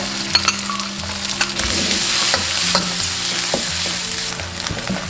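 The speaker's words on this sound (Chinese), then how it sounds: "直接加入肥肉煸 油，煸出油脂过后，下入姜末、红葱头、香菇、虾仁" Pork fat stir-fries in a dry wok with minced ginger, shallots, shiitake mushrooms and shrimp, giving a loud, constant sizzle with rhythmic scraping and tossing of a spatula throughout, heard up close without talk.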